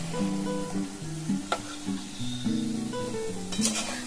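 Food fries in a pan over low heat, a soft continuous sizzle close by with occasional stirring clinks and a few brief sharper pops, no one talking.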